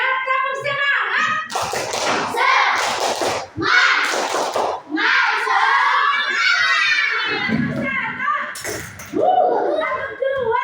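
Schoolchildren in a classroom perform a tepuk semangat chant together, shouting the words in unison while clapping and thumping in rhythmic bursts, loud and close, with chanting voices dominating throughout.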